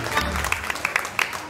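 A brief burst of clapping from a small group, sharp irregular claps that fade quickly.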